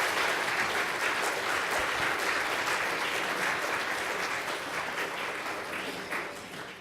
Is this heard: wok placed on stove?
no